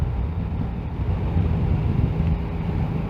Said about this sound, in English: the wind is hitting me in the middle of the face